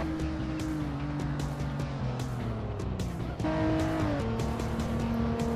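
Car engine in the Assetto Corsa racing game on a twisty Scotland free-roam road, a steady loud drone with shifting pitch as the car revs and changes gear, with faint tyre noise.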